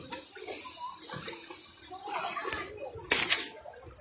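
A single loud splash of water bursts near the end as someone jumps into a very cold river, after a stretch of outdoor voices chattering and calling out.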